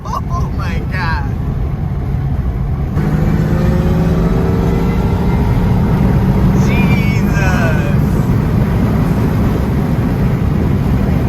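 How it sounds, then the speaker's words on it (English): A Lamborghini supercar accelerates on a cruise, a loud continuous engine and road roar with rising whines, recorded close from a following car while people talk excitedly over it. "this Lamborghini is so fast"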